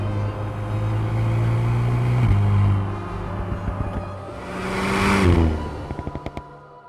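Alpine A110S sports car with a turbocharged engine climbing a long uphill stretch of track, its engine droning steadily and rising in pitch through gear changes, with a louder surge near the end.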